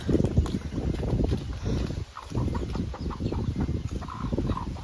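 Chickens cluck and chatter steadily nearby, a busy flock sound with overlapping calls and a brief lull midway.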